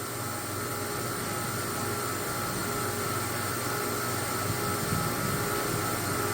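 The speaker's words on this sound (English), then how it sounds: "So 2 high pressure pumps going." Two high-pressure pumps run during maple syrup making, a steady broadband mechanical roar with constant hum and no breaks, loud and close throughout.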